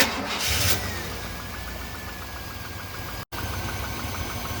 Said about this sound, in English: I'm gonna go ahead and start it.